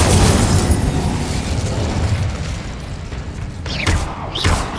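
Incendio fire spell cast in Hogwarts Legacy, a loud fiery burst and roaring whoosh that fades, followed by a couple of sharp sweeping bursts near the end.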